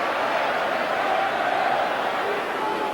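Wembley crowd at an England v Argentina football match in 1991, a dense, steady roar of thousands of distant voices with a faint sustained chant tone running through it.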